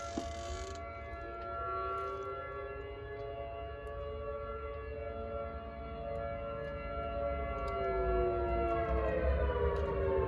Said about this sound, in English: and there go our tornado sirens.